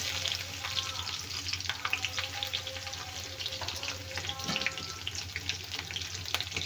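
Cumin seeds and crushed garlic sizzle steadily in hot oil while tempering for a raw banana sambar, a continuous close crackling hiss with small pops and clinks, no voices.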